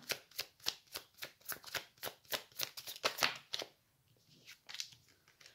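Tarot cards being shuffled and laid out on a table: a quick, regular run of soft papery slaps and riffles, close and fairly quiet, that thins into a few scattered card placements near the end.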